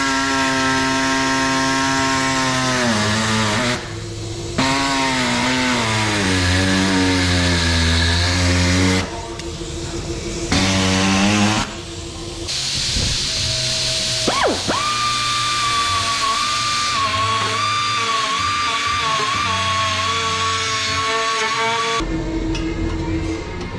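Loud, steady buzzing drone of a power saw cutting through a Ford Taurus SHO bumper, its pitch sliding and wavering as the blade bites, with several brief pauses between passes and a final stop.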